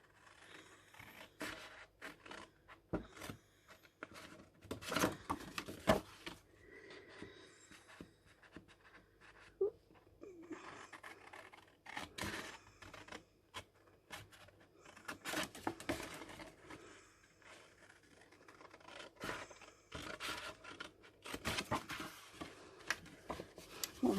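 Scissors cut paper pieces for a hinged lidded Stampin Up paper box, producing quiet, close, irregular snips and rustles in short bursts over a near-silent background.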